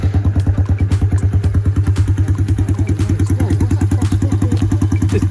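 A Sinnis Stealth 125 motorcycle with a swapped engine runs on a test, giving a loud, close, steady idle with rapid rhythmic thumping pulses and a little mechanical clatter throughout, with no talk.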